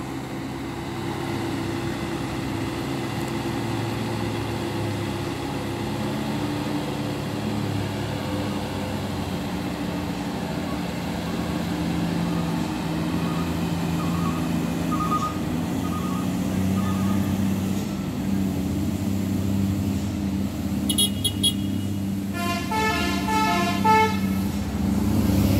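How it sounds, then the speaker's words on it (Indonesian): Heavily loaded truck carrying motorcycles labors up a steep hill, its engine a steady low drone throughout, with other traffic nearby and a few short horn toots near the end. "selanjutnya melaju truk muatan sepeda motor"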